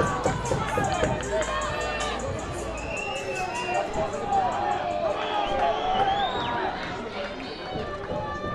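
Baseball stadium crowd at a Neptunus game as a player emerges from the dugout: a steady roar of cheering and hubbub with scattered whistles and shouts, loud and continuous throughout.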